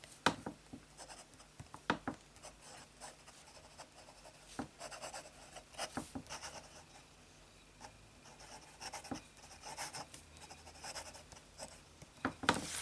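Fine-nibbed fountain pen writing on copier paper with Iroshizuku Ajisai ink, a close, quiet scratching and rubbing with sharp strokes and brief taps as the nib moves and lifts, with no talk.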